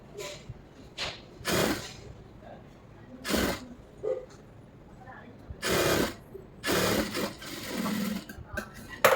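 A domestic sewing machine stitches a lining blouse in short bursts separated by pauses, running close and fairly loud, with brief quiet handling sounds between the runs.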